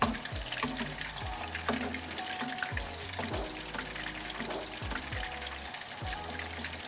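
Meatballs frying in a pan, a steady sizzle running throughout, with rhythmic low thumps and clatter from a backing beat layered over it.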